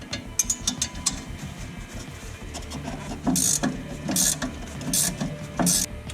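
A coil spring compressor on a 1966 Mustang front suspension is loosened by hand with a ratchet. Rapid clicking pawl ticks are heard, then heavier rhythmic mechanical turning with periodic hissy scrapes, close and with no talking.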